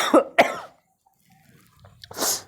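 Two sharp, close coughs in quick succession from a man with a cold and cough, followed by quiet and then a rough, breathy throat-clearing rasp.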